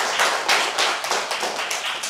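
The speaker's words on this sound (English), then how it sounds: "A big round of applause for Reshab Chetri." A short burst of scattered hand clapping from a welcoming audience at a youth club event, a few irregular sharp claps fading over two seconds with no voices.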